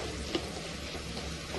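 Amaranth greens fry in a pan with chili powder, giving a brief, faint, even hiss of sizzling with a single small crackle.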